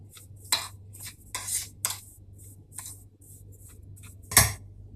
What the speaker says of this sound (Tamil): அந்த சுகரு ஏலக்காய் பவுடர் எல்லாம் ஒன்றா கோட் ஆகிற மாதிரி மிக்ஸ் பண்ணிக்கலாம்